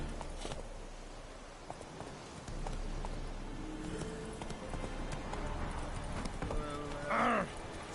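A horse's hooves clip-clop on the ground in the Witcher 3 game world. The steps come in a steady, moderately close rhythm with scattered clatter, and a short whinny rises near the end.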